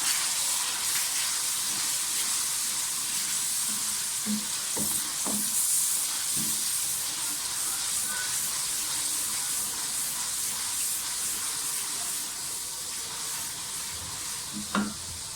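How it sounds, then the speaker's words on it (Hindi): Constant hissing sizzle of ginger garlic paste frying in a pan with occasional soft stirring scrapes and taps, steady and close, no talking. "प्याज फ्राई हो जाए तो लहसुन अदरक का पेस्ट डाल दें।"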